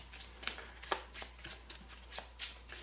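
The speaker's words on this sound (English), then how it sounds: "So Brandon, go ahead and shuffle your 2 decks together." Two decks of game cards from a Power Rangers miniatures board game being riffle-shuffled together at close range, a steady run of crisp ruffling bursts about every half second with no talking.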